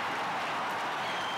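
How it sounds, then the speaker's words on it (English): A wrestling arena crowd in the WWE Wrestlefest video game roars and applauds in a continuous, even wash of cheering noise with no clear breaks. "The crowd are going absolutely wild here."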